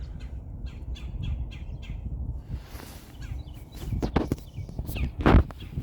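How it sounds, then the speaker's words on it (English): A woodpecker gives a quick series of sharp repeated calls, then louder squawks nearby, with rustling movement in the background. "It's a woodpecker."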